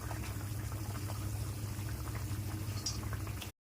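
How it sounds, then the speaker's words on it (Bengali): Fish curry broth with aubergine and ridge gourd at a steady rolling boil in a pan, a dense continuous bubbling and gurgling held close and even throughout, with no voices. "ঝোলটা ফুটে উঠেছে"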